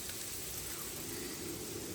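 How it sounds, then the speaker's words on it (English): Soft, continuous rain hiss at a shelter on the Appalachian Trail, even and diffuse, with no talking. "it has just begun to rain"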